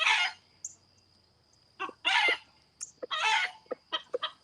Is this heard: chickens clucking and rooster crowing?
yes